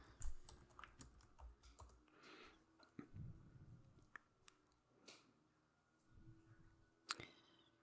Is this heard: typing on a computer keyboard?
yes